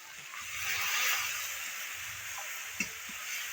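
Chopped tomato and ginger paste, salted, fry in a pan with a steady, fairly soft hiss and a few small clicks and scrapes near the end.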